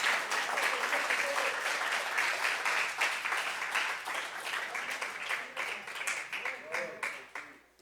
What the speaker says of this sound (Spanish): Dele un aplauso fuerte a Cristo,